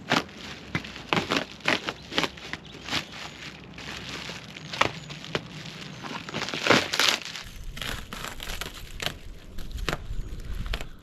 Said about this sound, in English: Let's get some of this bubble wrap off and see what this thing looks like